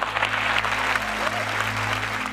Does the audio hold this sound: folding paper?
no